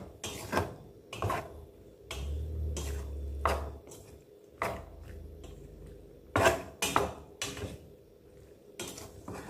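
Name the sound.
stirring pasta in a pan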